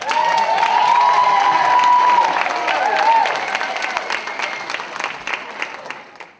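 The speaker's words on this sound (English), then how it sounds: "Clap like you think I'm awesome." An audience at an event celebrating the Older Americans Act's 60th birthday breaks into loud, sustained applause that gradually thins into scattered claps and fades out, with a few cheers and a brief whistle.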